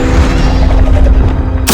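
A Confringo fire spell from Hogwarts Legacy, fought against a Quagmire Troll, bursts as a loud, dense explosive blast with rumbling low-end impacts across nearly two seconds, ending in a sharp bright crack.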